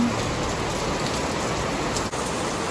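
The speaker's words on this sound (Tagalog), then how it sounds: "Sobrang lakas ng ulan." Heavy rain pours steadily outdoors, a dense, loud hiss of drops beating on surfaces with no pause, alone without voices.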